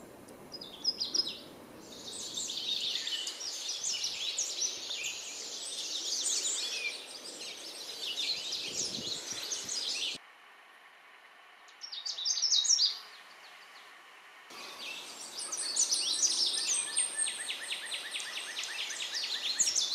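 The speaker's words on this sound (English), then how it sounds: "The Canada warbler sings a rapid tumble of notes with a loud, sweet voice." A Canada warbler sings rapid, tumbling bursts of sweet, high notes, repeated phrases separated by short pauses, fairly close and clear over a quiet background.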